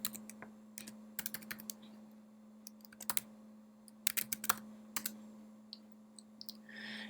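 Quick bursts of key clicks on a computer keyboard as a library card number is typed in, crisp and close against a steady electrical hum, with short pauses between groups of keystrokes.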